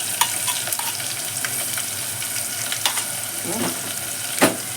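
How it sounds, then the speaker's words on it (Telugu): Ground coriander paste sizzles in hot tempering oil for coriander rasam, a close steady frying hiss with scattered stirring scrapes and a sharp clink near the end. "ఆయిల్లోనే తాలింపు వేసుకున్న ఆయిల్లో ఈ పేస్ట్ వేసేస్తుంది"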